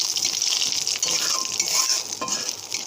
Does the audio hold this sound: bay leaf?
yes